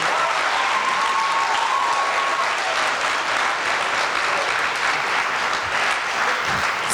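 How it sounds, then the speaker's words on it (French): Sustained applause from a comedy gala audience rings out after a stand-up set, dense and steady throughout with a faint whistle near the start and no talking. "James, on l'applaudit bien fort."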